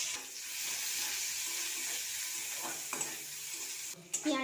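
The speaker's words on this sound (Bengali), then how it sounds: "পেঁয়াজটা হালকা লাল লাল করে ভাজা হয়ে গেছে" Chopped onion sizzling in hot mustard oil in a wok, with nigella seeds and dried chilli, a steady close frying hiss with a few stirring scrapes and clinks near the end.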